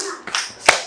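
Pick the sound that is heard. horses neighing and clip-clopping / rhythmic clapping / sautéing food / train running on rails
rhythmic clapping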